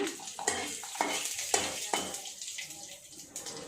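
Dried red chillies frying in oil, a steady hiss of sizzling with several sharp metallic spoon scrapes and clinks against the pan as they are stirred.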